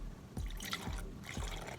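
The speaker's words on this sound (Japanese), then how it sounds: "じゃあお酒注いで" Japanese sake poured into a small serving vessel while warming it for hot sake, heard as a short, quiet, close trickle of liquid with gentle splashes and no voices.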